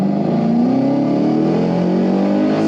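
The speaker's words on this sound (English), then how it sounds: "we'll go ahead and we'll let that 5-liter breathe a little bit. Second gear." Supercharged Gen 3 Aluminator 5.0 V8 in a 2012 Ford Mustang GT accelerating hard in second gear, engine note climbing steadily and loudly throughout with no talk over it.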